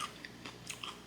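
Black bean noodles being chewed and bitten up close in a quiet mukbang setting, with a few soft crunching bites and wet mouth sounds spread over about a second.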